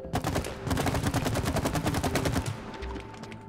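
Rapid automatic shooting in the co-op video game It Takes Two, a fast, even burst of close shots lasting about two and a half seconds before cutting off, no talk.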